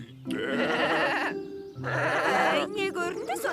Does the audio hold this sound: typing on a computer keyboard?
no